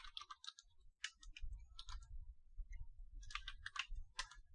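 Typing a command on a computer keyboard, quick light clusters of close keystrokes with short pauses between bursts.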